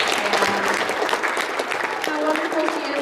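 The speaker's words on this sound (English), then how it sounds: "can we all just give a round of applause to Mrs. Aiken for being a wonderful Quarter 2 teacher" Students applaud their quarter 2 teacher, Mrs. Aiken, in a school setting, a steady wash of many hands clapping at moderate loudness while a voice speaks faintly beneath.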